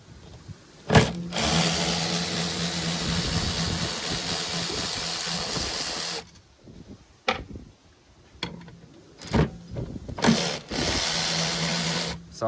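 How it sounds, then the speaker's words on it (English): A power tool runs in long bursts, loosening clutch bolts on a Kawasaki Mule, a buzzing whir lasting several seconds, then shorter stop-start pulses with brief pauses and clicks between them, close by and without talk. "definitely helps having a power tool because this takes a while otherwise"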